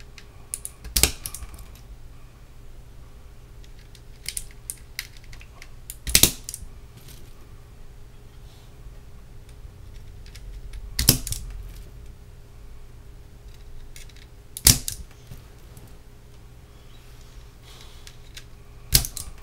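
Clicky green mechanical keyboard switches on a Hexgears Supernova board, a handful of sharp isolated clicks spaced several seconds apart over a quiet hum, close up with no voices.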